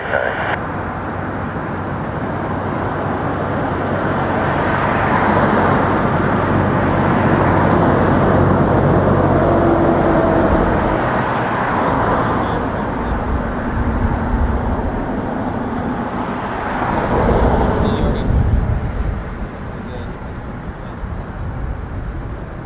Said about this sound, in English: For Toronto, it is very rare to see the A380 depart at nighttime.